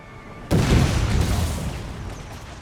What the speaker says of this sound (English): Are we getting artillery shots fired at us now?